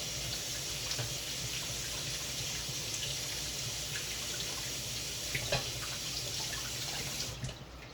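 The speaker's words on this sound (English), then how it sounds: "always wash your hands before you prepare any food for anyone or anything" Tap water runs steadily into a sink while hands are washed before preparing food for a bearded dragon, a continuous broadband rush with small splashes, ending with a brief clatter as the flow stops.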